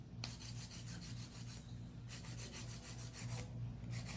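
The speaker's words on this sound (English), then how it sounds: "That's when you use a drill." Electric nail drill file grinds against acrylic nails, a steady low motor whine under repeated rasping strokes that start and stop in short bursts.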